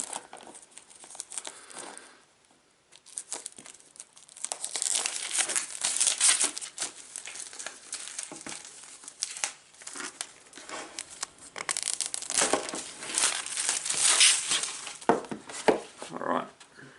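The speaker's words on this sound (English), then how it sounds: "there is shrink wrap over the model box. So just get my knife and just cut that" A knife slices through shrink wrap on a HO scale model locomotive box, giving close crinkling and tearing plastic rustles in uneven bursts, with some quiet talk mixed in.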